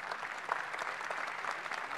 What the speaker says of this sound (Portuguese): salve de palmas para os nossos dois amigos aqui da Remax